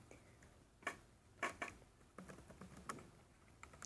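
Typing on a computer keyboard, heard as a quiet, close series of irregular key taps and clacks with a few sharper strikes and no talking.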